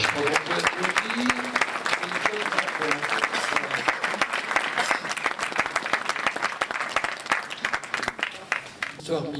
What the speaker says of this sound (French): je crois qu'on peut applaudir